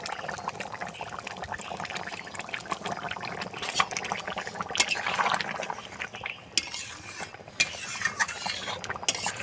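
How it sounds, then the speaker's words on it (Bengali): Mutton curry with raw tomatoes and a little ground garam masala bubbles as it boils in a pot, giving a close, quiet, irregular sequence of pops and gurgles with a few sharper bursts. "টকবক টকবক করে ফুটছে"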